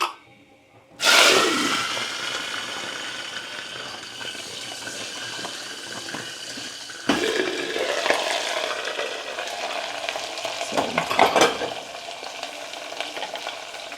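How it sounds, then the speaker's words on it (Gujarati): Cluster beans and peanuts dropped into hot oil tempered with mustard and cumin seeds, starting with a sudden loud sizzle that settles into steady frying, then a second burst and some stirring scrapes near the end, close and without talk. "આપણે પેલા ગવાર અને સિંગને નાખવાની છે તેલમાં"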